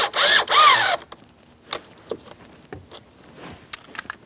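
A power tool snugs the upper steering column mounting bolt on a 2015-2025 Ford Transit 250: two short, loud whirring bursts up front, then scattered clicks and light handling noises nearby.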